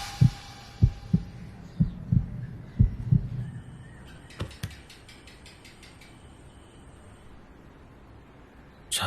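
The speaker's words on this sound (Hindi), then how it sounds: "धड़कनें तेज हो गई है।" Fast heartbeat sound effect in a Hindi-dubbed South Indian film, a run of about eight quick, loud, low thumps in steady rhythm, then fading into a quiet hum with brief metallic clicks.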